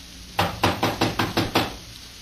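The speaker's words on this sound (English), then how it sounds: "The door's locked, all right. Well, let's try knocking." Six firm knocks land on a locked door in a 1944 radio detective drama, struck in a steady, evenly spaced rhythm and heard close and alone.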